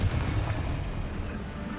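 A Confringo blasting spell in Hogwarts Legacy explodes as a deep, rumbling blast that fills the short stretch with a dense, booming low roar.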